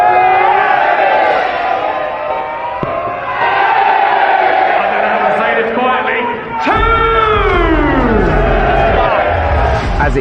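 A rowdy darts crowd jeers and shouts at a player early in a leg, loud overlapping voices and bellows close by, with a sharp burst of yelling partway through.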